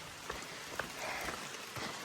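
Steady rain patters on the ground and surrounding surfaces during a hike on the Appalachian Trail, with a constant close wash of drops and a few sharper taps. No one speaks.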